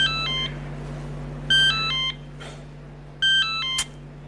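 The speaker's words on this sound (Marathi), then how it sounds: "चायला फोन कट करतो." Repeated electronic phone tones after a call is cut off in a Marathi TV serial scene: three short bursts of stepped beeping notes with gaps between, over a steady low hum and no talk.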